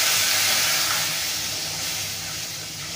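Water poured from a cup into dhokla batter, a steady close hissing splash that runs the whole time and fades slightly toward the end.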